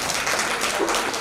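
Audience members at a book launch clap for students, a brief, dense burst of applause heard on its own.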